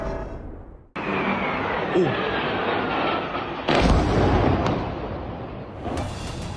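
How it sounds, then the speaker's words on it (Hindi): A loud, continuous rumbling roar from an explosion at Nur Khan airbase after a BrahMos missile strike, with a sharp onset, a second surge partway through and sustained blast noise throughout. "ये अभी एक दूसरा ब्लास्ट भी हुआ है हमारी ये नूर खान एयरबेस पे"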